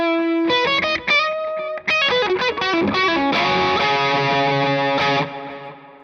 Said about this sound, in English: The reverb.